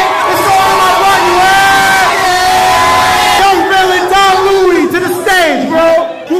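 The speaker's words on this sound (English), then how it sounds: "there's a lot of people in that crowd." A large crowd at a school event cheers and shouts together, a loud continuous roar of many voices with whoops rising and falling throughout.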